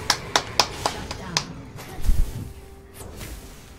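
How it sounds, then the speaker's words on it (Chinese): A few people clapping during a live game stream, a handful of sharp separate claps in an uneven rhythm, fading out, followed by a low thump and quiet background. "谢谢鼓掌。"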